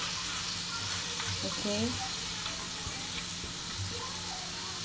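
Papaya being stirred in a hot frying pan, a steady sizzle and scraping under a speaking voice, close and continuous.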